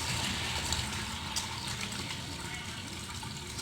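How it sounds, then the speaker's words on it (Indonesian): Water runs from a tap as hands and forearms up to the elbows are washed with soap, a steady gushing splash that stays fairly loud throughout. "Cuci tangan sampai ke siku dengan air mengalir dan sabun."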